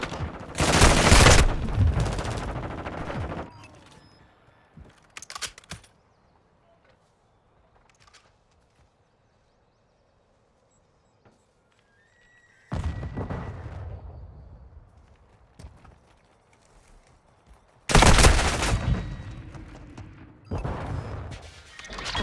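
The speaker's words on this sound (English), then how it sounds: "Enemy fire." Heavy gunfire bursts in Call of Duty Modern Warfare II during a Hardpoint match on the Shoothouse map: loud, dense volleys open the scene, a quieter stretch with faint distant shots follows, then more close, intense firing returns near the end.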